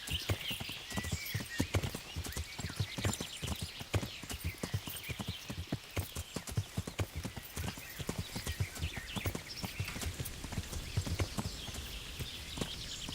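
Horses clip-clop steadily at close range in the medieval video game Kingdom Come Deliverance, hoofbeats dense and continuous across the whole stretch, with an occasional whinny rising above them.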